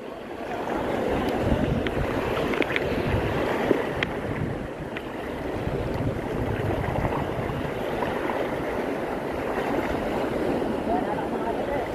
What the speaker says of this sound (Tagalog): Tanga na lumakas ang hangin.